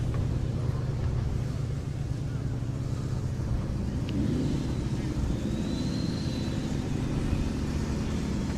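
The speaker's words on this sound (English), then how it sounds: "here's the Peugeot 309 just leaving" A Peugeot 309 GTI pulls away at an outdoor classic car gathering, a low steady engine rumble partly masked by wind noise and background crowd sound, with voices talking nearby.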